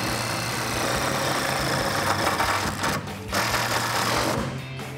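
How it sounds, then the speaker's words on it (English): A self-tapping screw driven in with an 11 mm socket on a power driver, fitting a storage case in a 2002-2018 RAM 1500, heard as a loud continuous whirring drone with brief dips in pitch. "get your 11 millimeter socket and one of the self-tapping screws in that socket,"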